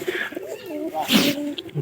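Pigeons coo softly nearby in a short run of throaty, rolling calls, on a foggy winter morning.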